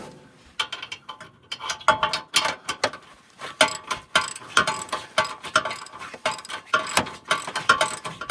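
A hand ratchet tightens a 12mm bolt into the crash bar of a 3rd gen Toyota 4Runner bumper, giving close, loud bursts of rapid clicking in repeated strokes with short pauses between.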